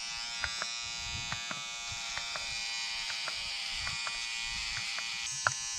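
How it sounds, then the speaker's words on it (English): An electric shaver trims a beard outdoors at sunset, its steady high buzz running throughout at close range with small clicks and bumps as the head moves over the hair; nobody speaks. "So it's time to have a shave."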